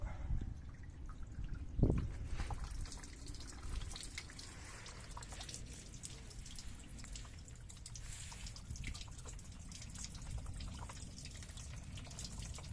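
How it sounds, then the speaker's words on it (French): Water runs out through a car's wheel arch, a steady low trickle and splash that carries on throughout, with a brief stronger gush near the start and no talking. "vous allez voir qu'au niveau du passage de roue, que l'eau s'évacue correctement"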